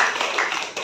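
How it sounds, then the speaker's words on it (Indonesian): A classroom gives a brief burst of applause for a student, a short patter of several hands clapping at moderate distance that fades within a second. "tepuk tangan untuk Wahyu Farel."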